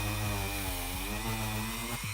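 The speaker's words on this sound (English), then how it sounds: "dig my Dremel into there a little bit" A Dremel rotary tool grinds rough cuts on a Star Wars Porg kit, giving a loud, steady high-pitched motor whine with slight dips in pitch as the bit bears into the material.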